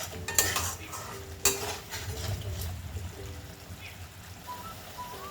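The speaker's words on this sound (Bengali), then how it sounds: "দিয়ে ভালো করে মশলাটাকে আবার নেড়ে দেব" Fried masala with a pinch of sugar stirred in a pan, soft scraping and low frying noise throughout, broken by two sharp utensil clinks near the start.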